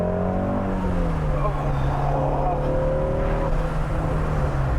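A GT350 car engine revving held below about 5000 rpm, a steady loud droning note with slowly rising and falling pitch lasting several seconds, close to the listener with a little voice underneath.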